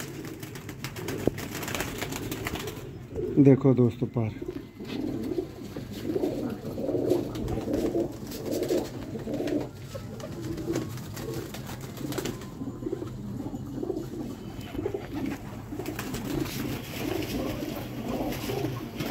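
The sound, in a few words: golden teddy pigeons cooing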